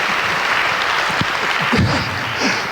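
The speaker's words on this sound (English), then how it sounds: "Applause." Audience applause at an Earth Day world peace celebration: a continuous wash of clapping with a few short voice sounds and bumps over it.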